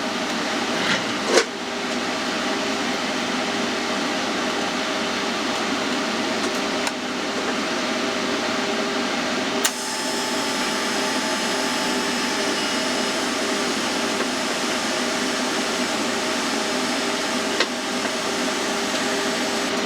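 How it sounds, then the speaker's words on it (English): TIG welding with filler rod on the downpipe of an LS-swapped Foxbody, a steady close buzzing hiss that runs almost unbroken for twenty seconds with a few brief clicks and pops, no talking. "I am very happy with that 1 inch of weld"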